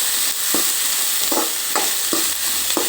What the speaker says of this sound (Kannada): ಈರುಳ್ಳಿಯನ್ನು ಹಾಕಿದೆ.